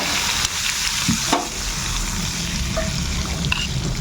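Mustard seeds and dried chillies sizzle in hot oil as a tempering for mango dal, a steady crackling hiss with a few sharper pops and clinks, close and moderately loud, no voices.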